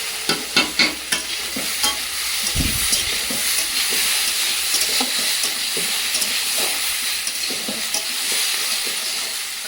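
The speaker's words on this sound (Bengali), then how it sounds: "এই দেখে পটল ভাজা হচ্ছে" Pointed gourd (potol) fries in oil in a pan, giving a continuous loud sizzle close by, broken at the start by several sharp stirring clatters and a dull knock partway through.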